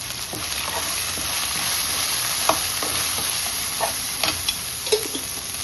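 Meat pieces fry steadily in a pan as turmeric is added, giving a continuous close sizzle with a few sharp ticks and pops from the spoon near the end.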